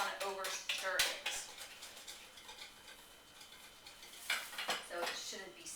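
Apple snack cake batter being stirred in a bowl, a spoon scraping and clinking against the sides in short bursts, soft and close, with pauses between strokes.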